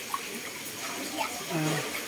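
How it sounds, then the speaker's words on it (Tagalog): Hot spring water flowing at an original hot spring resort in Asin, a steady broadband wash that holds throughout and swells slightly near the end, with faint voices in the background. "Ito yung mainit na tubig. Hot spring talaga."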